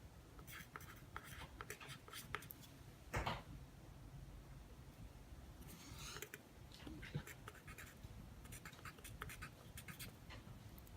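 A pen draws lines on paper while working through inequality problems: faint, close scratchy strokes come in short bursts over a quiet background.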